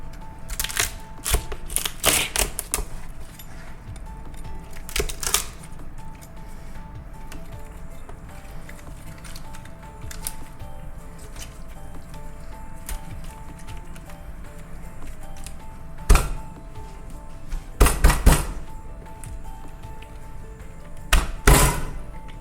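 A knife chops through a lobster head in a kitchen: sharp thunks and cracks come in scattered bursts, with heavier clustered knocks late on, close and fairly loud against quiet room background.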